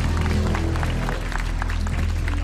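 A studio audience on a Taiwanese TV singing-competition show claps in a dense, even patter over a steady low hum from the stage. The applause stays constant and fairly loud throughout.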